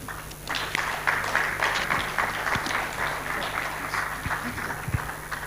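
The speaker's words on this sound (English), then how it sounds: "Please, another round of applause for him" Applause from a conference audience, a steady dense patter of many hands clapping at moderate distance, sustained throughout without speech.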